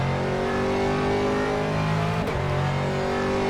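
A Porsche GT race car in rFactor 2 screams past on a straight, a loud sustained engine howl that peaks and bends downward in pitch midway as it passes, over the player's own steady car engine.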